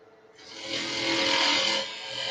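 A woodturning gouge cuts into wood spinning on a lathe, a steady close, rasping shear that starts abruptly, swells for about a second and a half, then eases slightly while the cut continues.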